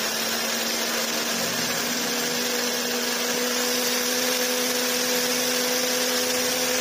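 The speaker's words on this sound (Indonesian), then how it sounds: "lalu kita blender bumbu yang sudah kita goreng tadi" A kitchen blender grinds fried spice paste for a stir-fried papaya dish, a steady loud motor whine with constant buzzing hum, running unbroken throughout.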